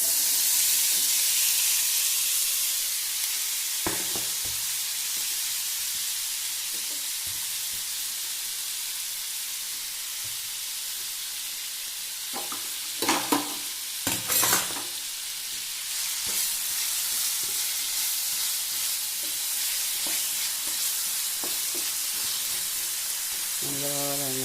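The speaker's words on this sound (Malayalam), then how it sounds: "നമുക്ക് ഈ മസാല പുരട്ടി വെച്ചിട്ടുള്ള വാഴക്കായ അതിലേക്ക് ചേർത്തി കൊടുക്കാം." Masala-coated raw plantain slices fry in hot oil, a loud continuous sizzle and hiss lasting throughout, with a few sharp bursts and clatters of stirring near the middle, no talking.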